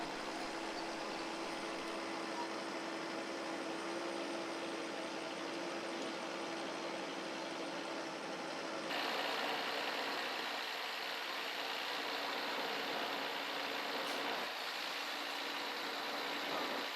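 A semi-truck tractor engine idles steadily with a low, constant rumble that shifts slightly in tone partway through, heard alone without speech.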